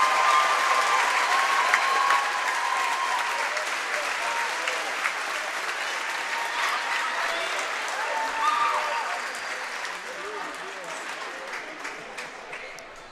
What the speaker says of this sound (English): Ladies and gentlemen, let's give these seniors one round of applause.